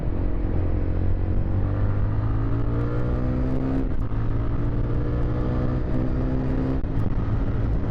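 A 2025 Jawa FJ motorcycle accelerating in third gear, its engine droning steadily and loudly with rising pitch, close and continuous, with no voices over it.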